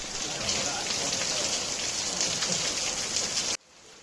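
Steady rain pours down on a village plantation in the Malenadu hills of Karnataka in a dense, even hiss, then cuts off abruptly near the end, leaving a quieter background.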